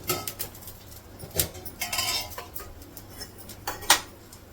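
A lid is set on a pan on a griddle during home cooking of besan poli, with several close metallic clinks and taps of cookware at uneven intervals over a quiet kitchen background.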